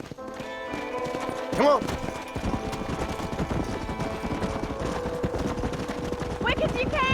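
Hooves drum in a fast, steady gallop as a horse is ridden in Red Dead Redemption, with a horse whinny, distant gunfire and voices speaking over the clatter throughout.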